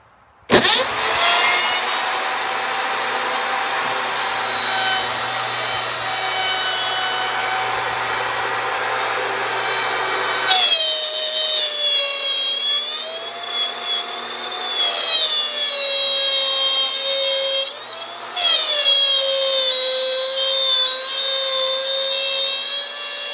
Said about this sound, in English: We're just going to drill it a little bit deeper.